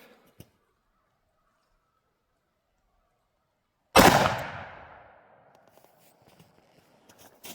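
A single loud, sharp .44 Magnum shot from a Smith & Wesson 629 Deluxe revolver cracks out after several seconds of near silence, then rings and decays over a couple of seconds, followed by faint small handling noises.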